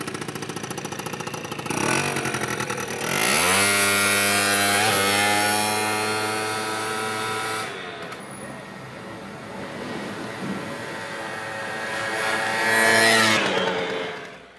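A Genuine Buddy 50cc scooter engine starts and settles into a steady, close running drone, its pitch rising as it revs before easing back to a lower hum.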